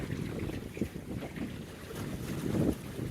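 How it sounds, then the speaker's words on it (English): Wind buffets the microphone aboard a small sailboat, a John Welsford Navigator, with gusty rushing and faint water lapping against the hull, steady and moderately loud with brief swells, no talk. "the wind just shifted about 90 degrees"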